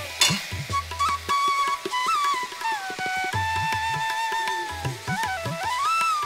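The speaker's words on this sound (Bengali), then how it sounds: "আর ভালো করে দেখো নাড়াচাড়া করে নিচ্ছি, কষা কষা হয়েছে এখন" Cauliflower curry frying with ginger garlic paste, soft sizzling under repeated spatula scrapes and knocks against the pan, while background music with a melodic line plays throughout.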